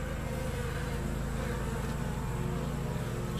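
Honey bees from a small swarm of a few hundred, some dropping pollen, buzz steadily and densely up close, an unbroken drone without any talking.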